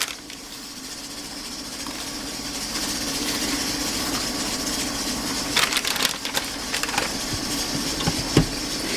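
A small blender grinds beer mustard ingredients, including onion powder, with a continuous coarse whirring grind for about nine seconds. Rattles and crunches come through as the mixture breaks down, close up, with no voices.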